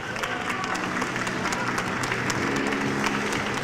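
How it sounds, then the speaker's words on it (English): Audience applause at the sixth annual Dragons' Chamber Taiwan pitch competition final in Taipei, greeting the winner: a steady, dense wash of clapping from a large crowd that holds evenly throughout, with no voices over it. "Please give a warm round of applause for Manga X Technology."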